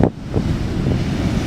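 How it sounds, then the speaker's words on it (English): A big ocean wave crashes onto the shore with a broad, steady roar of surf and wind noise on the microphone. It stays loud and continuous, with no voices. "here comes a big wave"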